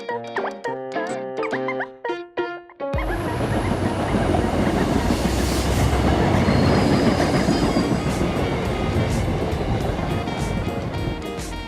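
A train rushes past close by with a loud, steady rumble and squealing wheels, starting abruptly after a few bright horn-like tones.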